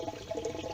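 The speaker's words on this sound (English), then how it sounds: "siphon out some of the pond" Water from a fish pond holding chromides gurgling and pouring through a siphon, a short continuous splashing flow with no voices.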